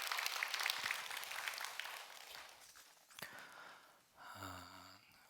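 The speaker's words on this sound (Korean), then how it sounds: "다시 오신 것을 환영하면서 여러분 박수 한번 해주시면 고맙겠습니다." A church congregation at a Wednesday worship service claps in welcome, a fairly faint round of applause that thins out and fades, followed by a brief tonal sound at the end.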